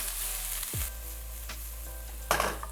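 Steady sizzling of shallot, garlic and Scotch bonnet chilli frying in hot oil, a continuous close crackle with a brief stir or clatter near the end.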